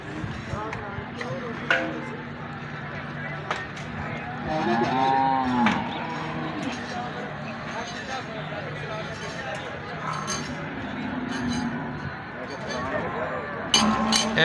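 A large herd of buffaloes at a livestock market in Kharian, Pakistan, mooing and lowing repeatedly at moderate distance over a steady crowd murmur, with people talking nearby throughout.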